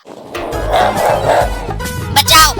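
A dog barks in a comedy sketch set in a jungle, several loud close barks and yips mixed with shouting voices and background music.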